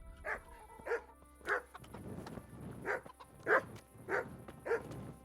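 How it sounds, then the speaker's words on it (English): A dog in the medieval video game Kingdom Come: Deliverance barks about eight times at a steady, insistent rhythm, each bark sharp and fairly close over a quiet low background. "What's that last dog at?"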